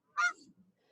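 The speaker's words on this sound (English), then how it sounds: "I can hear the geese in the background." One goose honks once at a golf course, a short nasal call heard faintly at a distance, with a little low rustle after it and no talking.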